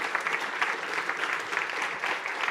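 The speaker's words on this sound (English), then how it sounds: "A big applause also for him" Steady audience applause at a tech conference talk, a dense even wash of clapping hands from a seated crowd, continuous and moderately loud with no talking over it.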